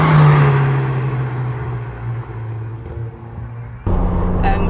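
A Ford Fiesta Zetec S with a new loud exhaust rumbles close by, its engine note starting strong and easing slightly before a sudden sharp rise in revs near the end.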